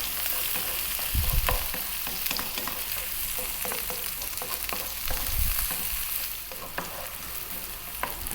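Garlic frying in a pan over above-medium heat with a constant bright sizzle, stirred steadily with a couple of heavier scraping bumps against the pan, and no voices.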